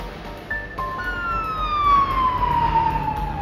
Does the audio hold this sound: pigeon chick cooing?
no